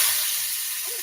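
Steak searing in hot olive oil in a pan gives a steady, loud, close sizzle that holds through the whole moment with no pause.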